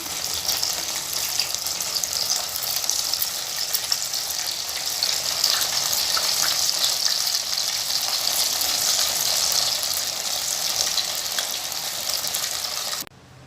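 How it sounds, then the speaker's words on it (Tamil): Idli pieces deep-frying in hot oil for idli manchurian, giving a loud, steady, hissing sizzle that holds for over twelve seconds and then cuts off abruptly. "மீதி இருக்க இட்லி இதே மாதிரி நம்ம பொரிச்சு எடுத்துக்க வேண்டியதுதான்."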